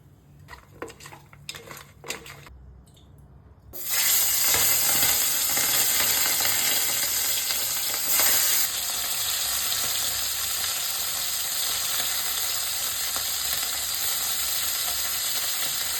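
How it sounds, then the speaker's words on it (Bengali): Small desi tengra catfish full of roe frying in hot oil: after a few light clinks of utensils, a loud, dense sizzle erupts and continues steadily close by, easing only slightly toward the end. "মাছগুলোকে ভেজে নেব"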